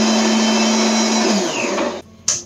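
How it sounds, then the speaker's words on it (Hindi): A mixer grinder whirs loudly and steadily while blending apple with mint leaves in the jar, then spins down and stops, followed by a brief clatter. "मिक्सी के जार में हम एप्पल डालेंगे, साथ में डालेंगे 5 से 6 पुदीना के पत्ते"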